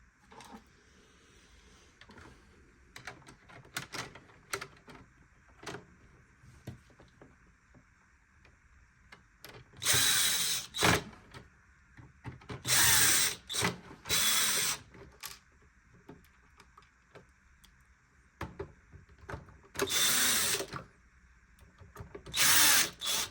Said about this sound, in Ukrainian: Тепер скручуємо корпус. Закручуємо всі гвинти